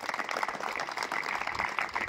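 Audience applause at an event fills the whole moment as a steady, moderately distant wash of many hands clapping, with no voices on top.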